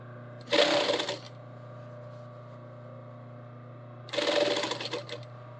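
Sewing machine stitching in two close, loud bursts, each about a second long, separated by a steady low motor hum.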